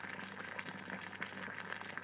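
Water boils in a coffee cup heated by a 240V electrode boiler, giving a steady, fizzing bubbling with a faint underlying buzz, moderately quiet and close.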